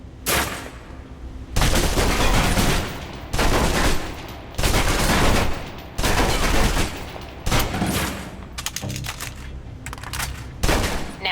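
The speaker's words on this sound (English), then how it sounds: "Now let's empty the clip. Let you get a feel for the recoil." Automatic gunfire from a gun emptied in the video game Alpha Protocol, several loud sustained bursts separated by short pauses, close and dominant, ending in a quicker string of shots.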